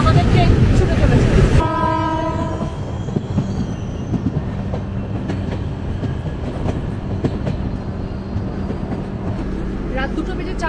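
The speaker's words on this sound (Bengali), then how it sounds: "আর সাথে আমাদের ট্রেন ছুটে চলেছে" At night the Sealdah–Jalpaiguri Road Express sounds a loud, sustained horn blast, then runs on with a steady rumble and rattling wheels.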